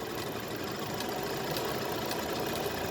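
A pico edging sewing machine runs on cloth with a steady, fast mechanical whir and faint rattling, continuous and fairly quiet.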